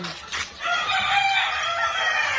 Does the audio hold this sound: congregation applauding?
no